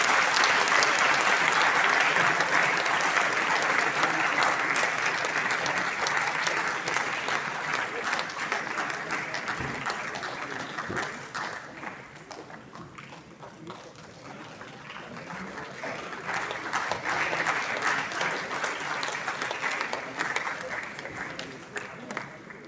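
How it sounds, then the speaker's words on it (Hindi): Sustained audience applause welcoming guests at a ceremony, dense and loud at first, easing slightly in the middle then swelling again, with speech mixed in. "आप सभी से अनुरोध है कि तालियों से स्वागत करें हमारे अतिथियों का।"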